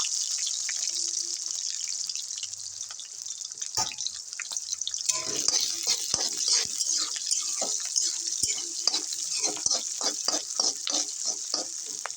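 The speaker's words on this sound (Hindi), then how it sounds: "थोड़ा फ्राई कर लेती हूँ प्याज और मिर्ची को" Onions and chillies frying in hot oil in a heated kadhai (wok) for a mushroom dish, a steady bright sizzle with stirring scrapes and clicks growing busier midway, close and continuous, no talking.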